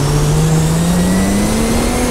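A modded car in a GTA video game drives with a steady engine drone that climbs gradually in pitch as it accelerates. It sounds loud and continuous, with no voices over it.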